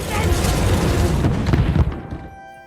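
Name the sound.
gunpowder bombs exploding in fire, film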